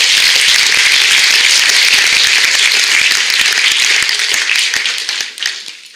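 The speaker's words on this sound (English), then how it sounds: "So can we give the JV soccer group a round of applause?" Audience applause at a school fall sports awards night, dense loud clapping from a crowd in a hall, sustained for several seconds before tapering off at the end.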